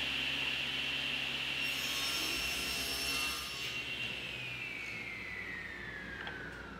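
Table saw ripping 3/4 inch plywood into narrow strips for a bookcase, a steady whining cut with a faint hum, the pitch gradually dropping toward the end, quiet and without talk.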